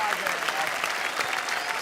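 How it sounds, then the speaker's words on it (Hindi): Loud, dense applause from an audience on a comedy show, a continuous wash of clapping that fills the short stretch, with faint voices mixed underneath. "तो भाई आम आदमी के लिए एक बार जोरदार तालियां"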